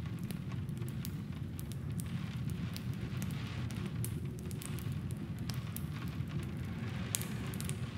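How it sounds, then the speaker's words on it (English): Steady rain falls outside a building as a continuous, even patter with scattered drop ticks, dense and unbroken at a moderate level with no voices. "the sound of the rain outside becomes clearer."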